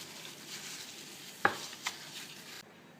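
Gloved hands work spices into beef pieces, giving a quiet, steady squishing rustle with one sharper click and a smaller knock close by; no one speaks.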